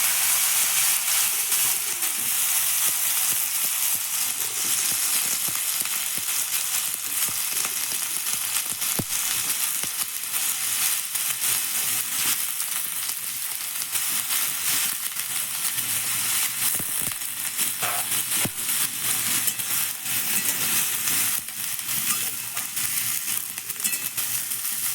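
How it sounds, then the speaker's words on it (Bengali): Pieces of raw pumpkin fry in hot oil, giving a steady, dense sizzle and hiss that keeps going without a break, with a few faint clinks along the way. "তেল গরম হয়ে গেছে, এবার আমি এর মধ্যে কুমড়োগুলো দিয়ে দিচ্ছি"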